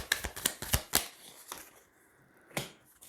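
Tarot cards are flicked and laid down in a quick run of crisp snaps and slaps, followed by a short pause and one more card placed, close and fairly quiet.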